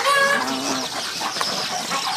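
Chickens clucking on a farm near geese and ducks, with a few rising calls at the start and steady busy bird noise throughout, fairly loud and close.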